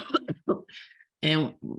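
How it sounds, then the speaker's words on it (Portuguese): A person coughs a couple of times amid brief bits of speech, close and clear. "Desculpa, eu tô com uma tosse."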